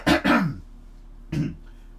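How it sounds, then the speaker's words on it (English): An adult gives two quick, close coughs in a row, then a single softer cough after a short pause, alone without talk. "I'm going to go off piece and have a little cough."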